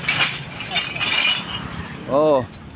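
Glass bottles clink and rattle as workers at a junk shop load them onto a truck, with scattered chinks over outdoor noise and a voice speaking briefly.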